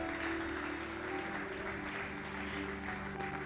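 A church congregation applauding, steady dense clapping filling the room throughout with a faint musical hum underneath.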